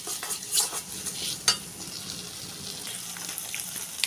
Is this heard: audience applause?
no